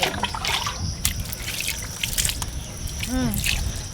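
Water is poured over someone's dirty feet during a bath, giving a close trickle and splashes of drips, while voices talk over it the whole time.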